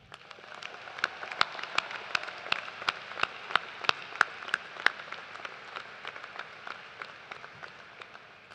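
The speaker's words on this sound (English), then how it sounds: "Please join me in applause now to acknowledge the scholastic achievements of all of these students." Applause at the University of Toledo spring commencement morning ceremony: a sparse, scattered crowd clapping with crisp individual claps, steady and moderately loud for several seconds, no talk.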